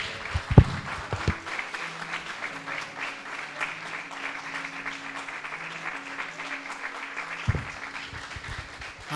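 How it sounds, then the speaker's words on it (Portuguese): A church congregation applauding during a worship service, a sustained, even wash of many hands clapping at a moderate distance, with a couple of brief low thumps and a faint voice underneath. "Dê uma salva de palmas para o Senhor."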